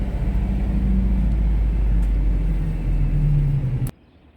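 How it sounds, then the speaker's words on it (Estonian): A bus on Flores island in the Azores drones with a low, steady engine rumble, close and even, before the sound cuts off suddenly near the end. "Buss, mitte ühtegi teist reisijat pole."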